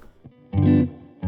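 A couple of short electric guitar notes ring out with a warm, rounded clean tone from a Strat's neck pickup through a dry amp with light reverb, one sustained briefly before a final strum begins.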